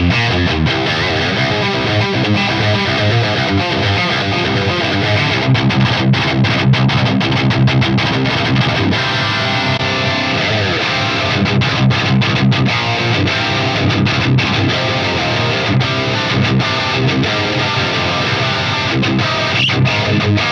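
A heavily distorted electric guitar played through a Mesa amp impulse response, a dense, loud, continuous riff of chugging and sustained chords without any voice over it.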